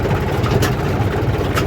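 Mahindra 265 tractor engine running steadily at close range, a continuous low diesel chug with a rhythmic pulse, recorded while driving through the entry area of a sugarcane mill.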